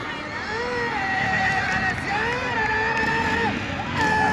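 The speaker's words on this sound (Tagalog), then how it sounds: "Grabe, hiyawan ng mga tao" Spectators at a ladies' first-heat race shout and cheer in a loud, sustained roar that swells in waves, with excited voices rising above the din throughout.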